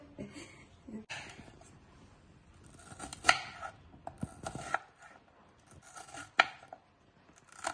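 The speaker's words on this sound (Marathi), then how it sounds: "चला, स्टार फ्रूट आपण कापून घेऊया." A knife chops star fruit into small pieces on a cutting board, giving sharp, irregular taps and crisp slicing sounds in scattered bursts, close and clear with quiet gaps between cuts.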